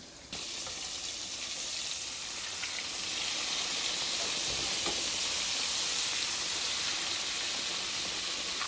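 Chicken fried steak fries hard in a pan of hot fat, a loud, steady close sizzle and steam hiss with spattering pops that holds without a break throughout.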